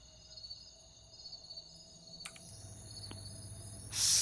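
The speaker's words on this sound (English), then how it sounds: "the crickets chirping" Night ambience of crickets chirping inside the business sim game Software Inc, steady high-pitched trills running continuously at a soft level, with a brief click and a louder rush of sound near the end.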